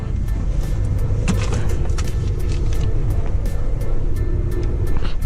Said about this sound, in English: Alright, so we're driving the new Explorer